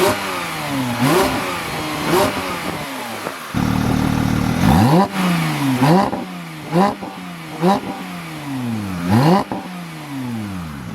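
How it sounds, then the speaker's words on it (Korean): A Porsche Speedster, running the GT3 exhaust system with an added particulate filter, revs hard in repeated rising blips, each engine note sweeping up and dropping back, with a brief steady idle-like drone midway. The sound is loud and close. "스피드스터의 배기음에 대해서 좀 설명드릴 부분이 있어요."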